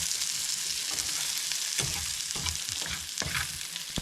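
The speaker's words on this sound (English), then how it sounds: "we're gonna mix up here with a little butter." A big pot of cooked potatoes is mixed with butter over an off-grid cooking setup, with a soft hiss beneath several distinct scraping and stirring strokes of a spoon against the pot.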